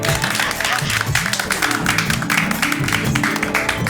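Applause from a studio audience on a Hindi TV comedy show, a dense, steady burst of many hands clapping close by, filling the whole moment with no talk over it.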